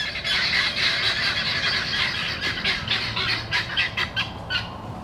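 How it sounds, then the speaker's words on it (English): Birds squawk and squeal continuously outdoors in the woods, a dense, loud chorus of harsh calls with sharper individual squawks standing out toward the end. "The birds are coming back."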